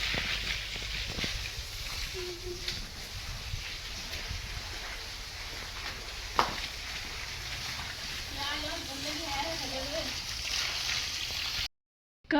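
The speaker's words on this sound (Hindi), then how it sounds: "ये दोनों यहाँ धुलाई कर रही हैं बाहर, उसने पाइप पकड़ रखा, वो धो रही है।" A hose sprays water outdoors as people wash things outside, a steady rushing hiss that runs continuously under talk before cutting off abruptly near the end.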